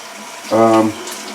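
Water from a tap runs briefly while a pizza pan used for gluten-free dough is rinsed, a short steady gush lasting under half a second over a quiet kitchen background.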